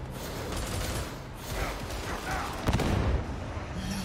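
Grenades go off in a shooter video game against a busy backdrop of gunfire and rumble. A heavier burst of booms lands near the end, mixed with other action sounds.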